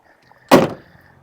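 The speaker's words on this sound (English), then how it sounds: "Door a little crunchy" A door on a 1968 Ford Galaxie, slightly crunchy, thuds shut once up close: a single sharp, loud impact with a short rattling decay, set against quiet surroundings.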